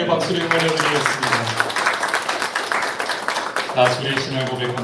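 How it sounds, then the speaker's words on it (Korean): A church congregation claps during a Sunday worship service, a dense spell of clapping that runs under singing or speaking voices and fades near the end. "하나님께 박수를 보내드리겠습니다."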